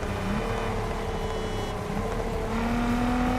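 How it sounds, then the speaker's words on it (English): A Ford F-150 pickup in TDU Solar Crown with a steady engine drone and a pitch that slides as the truck brakes, loud and continuous with no voices. "That's an F-150. Braking now."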